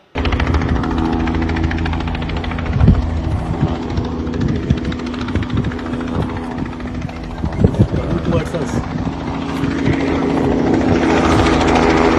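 A helicopter used in a rescue operation to capture blackbuck antelope near Gandhi Sagar sanctuary produces a loud, steady rotor and engine drone throughout, with occasional sharper bursts layered over the constant roar.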